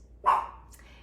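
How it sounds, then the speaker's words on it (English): A single sharp bark from a puppy, fairly close, followed by quiet. "I'm so sorry if you hear barking."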